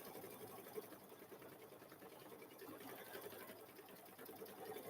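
An embroidery machine stitches out a quilt design in the hoop, a faint, steady, rapid needle hum running evenly without pause throughout.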